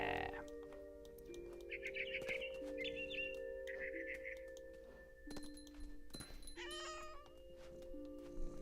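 A cat meows repeatedly in the video game What Remains of Edith Finch, with drawn-out, wavering calls standing out over steady background tones and a few bird-like chirps, fairly loud and with no talking.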